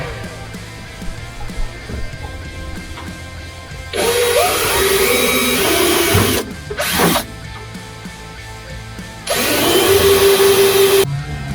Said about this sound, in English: then use the riveter on the other ones